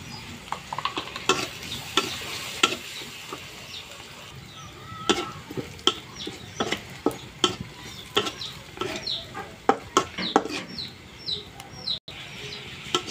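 Onion, garlic and green chili with whole cumin frying in a pan, a low continuous sizzle broken by repeated sharp scraping clicks of stirring, with birds chirping faintly in the background.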